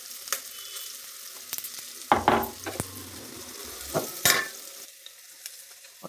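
Bitter gourd fries with garlic chili powder in a pan, a steady sizzle broken by several loud stirring scrapes and clatters near the midpoint, then fading to a lighter crackle.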